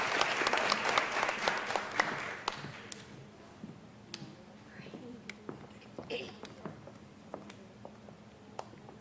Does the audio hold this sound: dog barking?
no